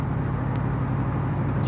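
A 1970 Dodge Challenger R/T Magnum 440 convertible cruising down the road, a steady deep engine drone with road and wind roar, loud and continuous, no talking.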